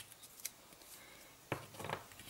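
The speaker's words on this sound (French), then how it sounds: "je viens correctement appuyer et je viens déchirer" Paper is torn along the edge of a strip during handmade card-making. After a few faint taps, one short, close, quiet ripping sound comes near the end.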